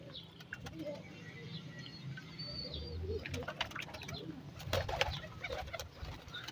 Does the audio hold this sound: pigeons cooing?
yes